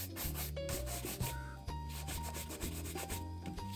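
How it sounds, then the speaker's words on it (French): Close, quiet brisk scrubbing strokes on restored Doc Martens leather boots, working into the seams in short rhythmic bursts. "Et on frotte. On fait pas semblant. Dans les coutures."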